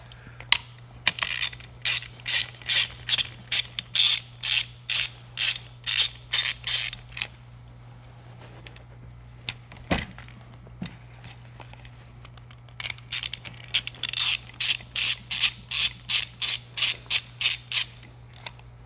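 Grips and wear pads being worked off an Eaton Carter heavy-duty ground fueling nozzle give bursts of rapid ratcheting clicks in two long runs, close and fairly loud, with a steady low hum underneath and no talking.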